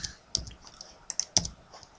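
Keys pressed on a computer keyboard during editing-software shortcuts: a handful of sharp, close clicks at irregular intervals, with a couple of louder taps standing out over a quiet background.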